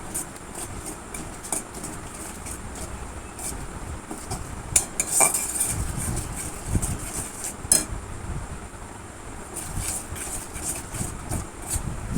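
Spice paste with turmeric and red chili powder being stirred and fried in a pan for a potol curry, a spatula scraping and clinking against metal over a low, steady background.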